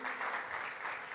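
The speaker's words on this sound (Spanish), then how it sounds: "Dele una ofrenda de palmas al Señor" A church congregation claps in praise to the Lord, a short, faint wash of steady applause heard from a distance.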